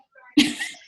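A single sneeze close by, with a soft intake of breath followed by a sharp loud burst that fades quickly.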